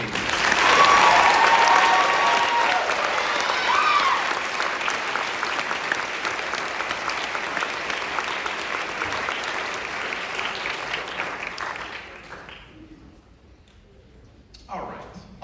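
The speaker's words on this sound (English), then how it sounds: "One more round of applause for Sanjana and Katie." Sustained audience applause at a school spring band concert, dense and loud for about twelve seconds, then tapering off into a quiet room with a brief burst at the end; voices murmur through it.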